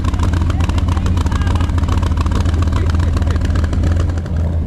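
A custom 1959 Chevy Apache truck engine roars loud and close, a continuous heavy rumble with a rapid pulsing beat that stays steady throughout, voices faintly mixed under it.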